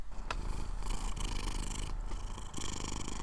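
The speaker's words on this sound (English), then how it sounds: "that's a kitty purring" A cat purrs in a close, continuous low rumble, steady and soft with no other sounds.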